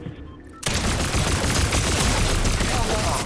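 Rapid video-game gunfire from an overclocked post rifle, a dense loud burst of shots starting abruptly and continuing without pause.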